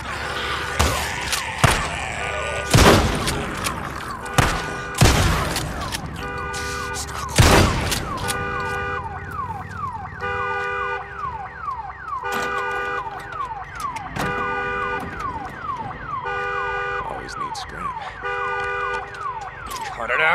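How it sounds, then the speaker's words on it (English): An alarm siren blares in the video game Days Gone, a loud repeating wailing tone cycling steadily with several heavy impact bangs early on, close and dominant throughout. "Damn alarm."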